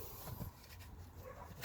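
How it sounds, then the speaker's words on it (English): Faint, distant dogs barking and yipping in scattered bursts, low behind a quiet background hum where a Subaru Legacy's cabin air filter is being changed. "Listen to the dogs bark."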